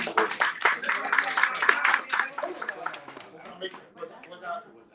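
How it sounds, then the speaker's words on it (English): A small restaurant and food truck team breaks into a round of applause during a staff meeting: loud, scattered clapping for about two seconds that thins out and fades as voices keep talking. "That deserves a round of applause."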